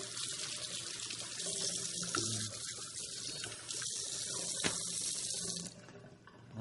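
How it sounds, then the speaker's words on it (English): Tap water running into a sink while juicer containers are rinsed, a steady splashing rush with shifting gurgles and a brief clink, easing off near the end. "And then, of course, you can rinse the juicing containers."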